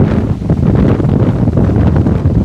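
Strong wind blows across a golf course and buffets the microphone in a loud, continuous roar with gusty surges.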